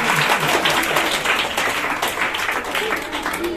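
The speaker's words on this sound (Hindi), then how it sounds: "जोरदार तालियां।" A studio audience at a Hindi children's quiz show breaks into applause, a busy burst of clapping that stays fairly loud and even throughout, with some voices mixed in underneath.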